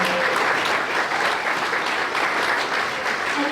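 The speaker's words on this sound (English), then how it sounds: "you can clap for that." Town hall audience applauding, a dense, steady burst of many hands clapping close and loud throughout.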